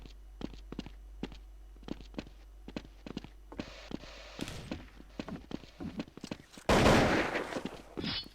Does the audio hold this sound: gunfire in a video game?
yes